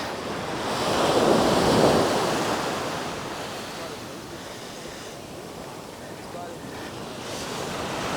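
Surf breaking and washing up on a tropical beach in Bali, with tourists out in the water; a steady broadband roar that swells around the second second, then settles into continuous wash with some wind buffeting the microphone.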